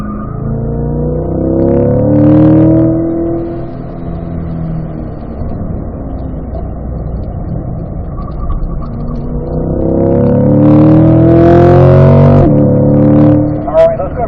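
A car lapping a race track during a track session and hugging the inside through a corner: a loud, close engine whose revs climb, ease off, then climb again as it powers out.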